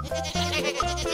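A cartoon goat bleats in a brief, wavering call over a simple backing tune in a children's animal painting game.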